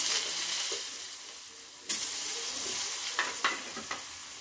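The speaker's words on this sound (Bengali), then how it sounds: "ওই তেলে আমি আলুটা ভেজে নেব।" Potatoes frying in oil in a home kitchen pan, a steady close sizzle with a few sharper crackles and stirring bursts near the end, with no talking.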